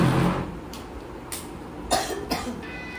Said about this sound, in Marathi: खोकला